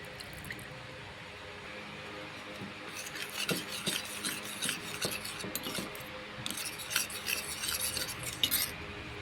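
Spice powders, chili and cumin, mixed with a splash of water in a bowl by spoon, making close, uneven scraping and rasping strokes that come in bursts with short pauses.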